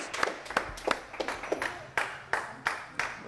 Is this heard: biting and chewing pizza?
no